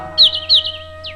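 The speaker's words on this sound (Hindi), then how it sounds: "चारों तरफ आज पक्षी चहचहाने लगे" Birds chirp in two bright, quick descending calls close together, followed by a softer third call, heard over a steady tonal hum with no talking.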